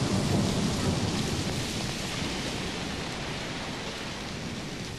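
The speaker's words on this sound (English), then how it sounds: "with the only thing remaining is the storm" Thunderstorm with steady heavy rain closing out a rock song, a dense continuous wash of rainfall and low rumbling thunder, fairly soft and unchanging, with no music or voices.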